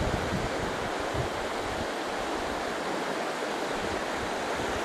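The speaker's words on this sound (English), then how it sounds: "Hunter Creek flowing down into the Knik." Hunter Creek flowing into the Knik River, a dense, steady rush of moving water with broadband roar throughout, close and continuous with no voices.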